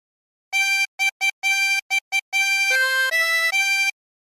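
Harmonica plays a phrase of the sea shanty Drunken Sailor with no bends, sounding a series of clean sustained reedy notes: short staccato repeated tones, then longer held notes stepping up and down, loud, close and alone.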